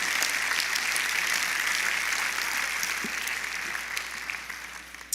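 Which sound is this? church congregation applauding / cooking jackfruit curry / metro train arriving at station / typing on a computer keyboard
church congregation applauding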